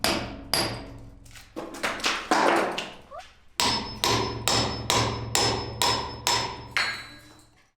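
Small hammers strike a wall during workshop demolition, landing as a long series of sharp, close, loud impacts in an uneven rhythm, some blows spaced apart and others coming in rapid bursts.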